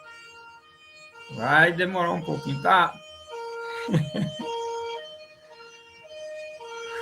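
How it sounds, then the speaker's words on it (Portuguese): A fire truck siren wails outside, steady and fairly loud in the background, while a woman lectures in Portuguese over it. "Tem um barulho aí de carro de bombeiro"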